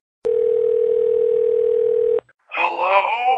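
A telephone gives a single steady electronic tone lasting about two seconds in an animated scene, then stops and a voice begins talking.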